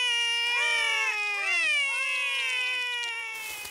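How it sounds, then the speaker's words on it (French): Cartoon kittens meow in a series of high, drawn-out cries, close and clear, overlapping one another with no talk over them. "Ces deux chatons-là sont Holly et Fleur."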